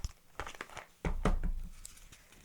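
Paper advice cards rustle and crinkle as they are shuffled and handled during a tarot-style reading, a soft close flurry followed by a louder scrape and rustle.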